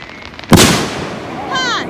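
A single firework bursts close by with a sharp, loud crack at a backyard display, its rumble trailing off before a whistling rise follows.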